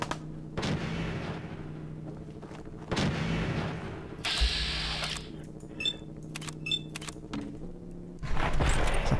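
Laser rifle shots from Fallout 4 crack in several separate bursts with a deep thump, mixed with mechanical clicks and game effects, fairly loud and with no voice over them.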